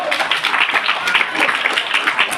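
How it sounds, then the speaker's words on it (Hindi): Children at a school clap loudly and rapidly for a pupil named Prahlad, a dense, continuous patter of many hands close by. "प्रहलाद के एक बार जोरदार तालियां लगाइए तो"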